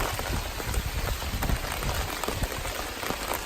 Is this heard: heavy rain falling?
yes